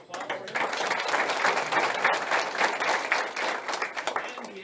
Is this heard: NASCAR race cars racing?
no